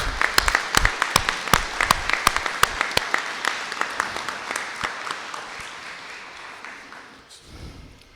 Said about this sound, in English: I hope you join me in giving them a round of applause.